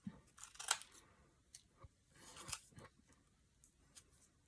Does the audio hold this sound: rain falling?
no